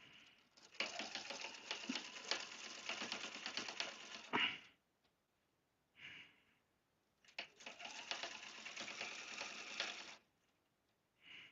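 A sewing machine runs in two bursts of rapid, rattling stitching while piecing a log cabin table runner, separated by brief pauses and a few soft clicks, close and clear with no talking.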